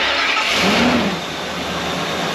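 An old RV engine, bought cheap and sight unseen, cranks and catches on its own without starting fluid, a loud, close, steady mechanical roar that swells briefly then settles into a rough idle.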